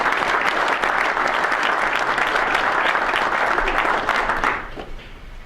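A room of golf professionals at an annual PGA section meeting applauds a newly appointed secretary, steady loud clapping from many hands that fades off near the end.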